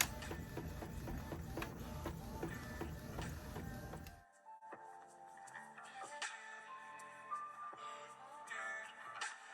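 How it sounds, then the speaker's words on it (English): A sublimation printer runs a print job for a phone case image, giving a steady mechanical whir with rhythmic ticks and clicks, heavier in the first half and then lighter, with soft servo tones and shuttling. "Okay, so now the image is being printed,"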